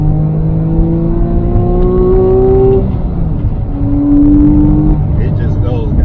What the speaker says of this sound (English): This car rewards you for, you know, holding it out to that red line.